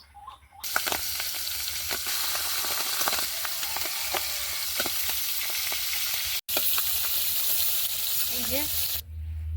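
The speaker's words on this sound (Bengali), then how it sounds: "মাছগুলোকে নুন হলুদ মিশিয়ে এবার ভেজে নেবো" Fish rubbed with salt and turmeric fries in hot oil in a kadai. The sizzle is loud and continuous, with scattered pops and crackles, and one brief break near the end.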